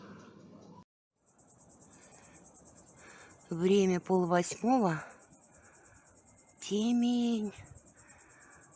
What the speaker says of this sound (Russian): Слышно, как цикада поет